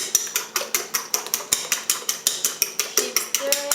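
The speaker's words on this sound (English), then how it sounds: "Keep stirring." Tomato and egg stirred in a pan for a traditional Chinese dish: a quick, even train of light scraping clicks, about four per second, close and steady with no voices.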